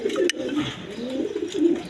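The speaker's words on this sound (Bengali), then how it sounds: "এখানে আরেক পেয়ার কবুতর আছে দেখেন" A pair of pigeons kept by a breeder coo in low, rolling bursts close by, their throaty calls repeating steadily with a brief sharper sound near the start.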